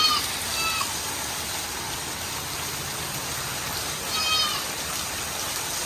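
Heavy rain pours down in Adirampattinam as a steady, even hiss, with a brief louder swell partway through.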